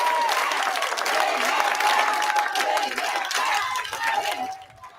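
A crowd applauds and cheers inside a school during a tense school committee meeting in Brockton, Massachusetts, sustained clapping and shouts that stay loud and dense before tapering off at the end.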